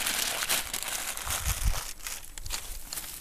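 Paper mailer crumpled outdoors beside a fire pit where wood is being gathered to cook bean hole beans in the ground, giving a steady close crinkling and rustling with a few soft thumps, no voices.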